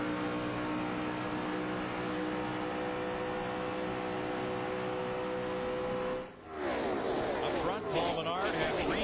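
NASCAR race cars accelerate at the start of the 2009 Bud Shootout, a dense steady engine roar under commentary that breaks briefly and then returns as a sweeping, rising snarl of passing cars.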